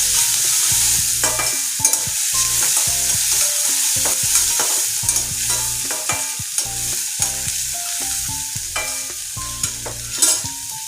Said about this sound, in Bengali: পেঁয়াজটা একটু নাড়িয়ে চালিয়ে নেব।